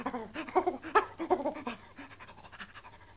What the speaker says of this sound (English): It's the Woodentop spotty dog.